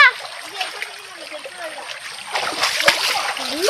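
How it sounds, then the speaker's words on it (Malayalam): Water is splashed about by hand in a shallow stream, with bursts of close splatter and sloshing mixed with excited voices talking over it. "എൻ്റെ കസിന് എൻ്റെ മേത്ത് വെള്ളാക്കാനായിട്ട് ഒരു സൈസ് കളി കളിക്കുന്നുണ്ട്"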